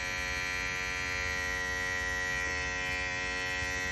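An Andis ReVite cordless hair clipper runs at full power while plugged in, giving a steady, even motor hum with a constant buzz that holds unchanged throughout, close and alone.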